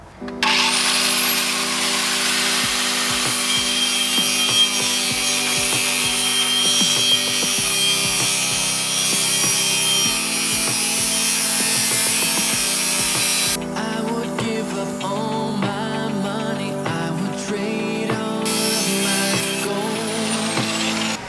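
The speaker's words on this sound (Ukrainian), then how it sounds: "без проблем 180 ОШМ працює" A 180 mm angle grinder runs continuously on a portable power station, a loud, steady high whine close by that shifts in pitch and load as it works for about twenty seconds.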